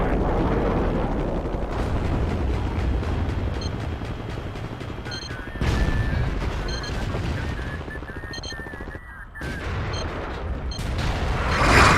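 Battlefield 2 artillery fire rumbles as a dense, continuous barrage of booms and crackling blasts, loud and sustained for the whole stretch, with a brief lull near the end before the bombardment swells again.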